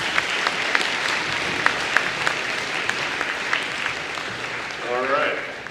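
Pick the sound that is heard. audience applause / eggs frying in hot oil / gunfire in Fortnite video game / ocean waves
audience applause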